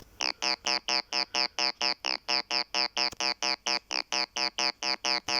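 A synth plays a steady, even run of short repeated notes with a buzzy, bright tone, each note evenly spaced with brief gaps, loud and alone.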